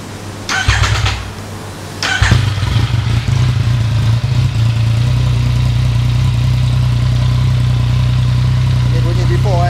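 Motorcycle with a stock standard exhaust starting up and then idling steadily with a low, even rumble, loud and close, with someone talking briefly before it settles.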